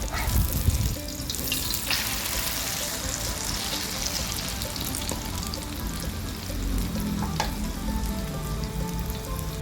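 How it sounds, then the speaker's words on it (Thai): Cha-om (acacia leaf) egg omelette frying in hot oil, a steady close sizzle and crackle running throughout with a few faint clinks of a utensil, no voices. "ทอดไปสักพักหนึ่งนะคะ เริ่มได้ที่แล้วเราก็จะตักขึ้นนะคะ"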